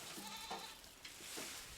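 Goats kept in pens in rural China bleating, a few short faint cries at a distance, one after another, over a hissy outdoor background.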